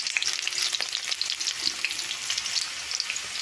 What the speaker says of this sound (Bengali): আলুগুলো একটু ভেজে নেব